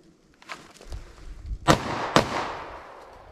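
Two sharp shots from a Sig 365 9mm pistol fired as a quick double tap after drawing from a holster, loud, close cracks about half a second apart, with quieter handling noise before them.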